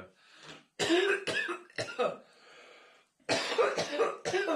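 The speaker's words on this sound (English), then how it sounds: "if you got a cough, this is a cough break." Several harsh coughs and throat clearing come in bursts, close by, with a pause of quiet breathing between the two clusters.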